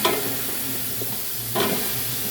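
Squash and vegetables sizzle and fry in a hot pan, a steady close hiss with brief louder bursts as food is added or stirred, no talk over it.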